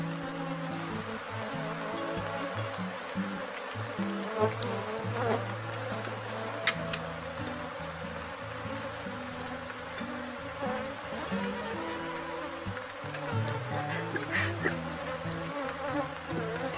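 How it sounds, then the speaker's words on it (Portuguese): A dense swarm of honey bees drones steadily around hive boxes while a colony is being split, a continuous close buzzing with individual bees zipping past near and far and no voices. "quando esse enxame sair daqui, vai vir muitas abelhas para cá"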